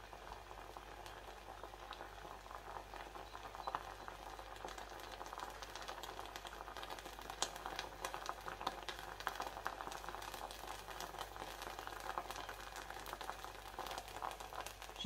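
Water boiling and slowly reducing in a pan on the heat, a faint continuous bubbling and sizzling with a low steady hum beneath, no voices over it.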